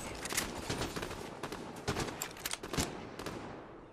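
Rapid gunfire bursts from a Fortnite match crackle in quick, uneven volleys, loud and close, with several sharp cracks spread across the few seconds and no talking.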